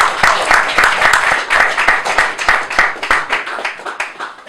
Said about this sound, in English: Let's have another warm round of applause for Brother D.